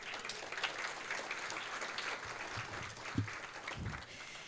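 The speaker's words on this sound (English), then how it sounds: "Give yourself a round of applause." Crowd at a city's fall State of the City address gives a round of applause, steady many-handed clapping at moderate level, with a few low thumps and murmurs late in the clip.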